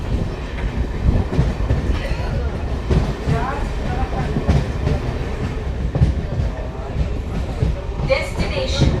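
A MEMU passenger train on the Katni–Chirmiri route rolls along with a rumbling, rattling carriage noise, rhythmic wheel clacks and occasional squeals, while people talk inside the coach.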